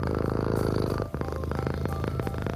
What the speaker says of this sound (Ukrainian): заспокоює підписників муркотінням